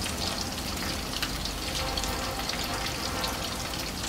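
A sea bass fillet sizzles steadily in a pan over medium heat after being flipped, a continuous close crackle of hot oil with no pauses.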